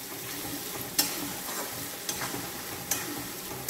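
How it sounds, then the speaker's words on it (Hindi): Chopped tomatoes fry with ginger in a pan, giving a soft, continuous sizzle broken by a few sharp scrapes and taps as a spoon stirs them. "अब हम इसमें ये कट किए हुए टमाटर डालेंगे।"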